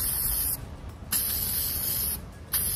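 Two long, steady hissing bursts of an aerosol spray can spraying sealer, separated by short pauses, close and fairly loud.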